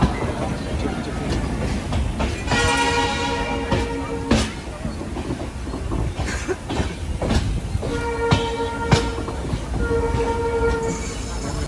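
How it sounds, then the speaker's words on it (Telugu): Train rumbling along steadily with rhythmic clicking of wheels on rails, heard from inside a general compartment, a horn sounding twice, and faint voices in the background. "సో ఫైనల్ అయితే ట్రైన్లో ఉన్నాం."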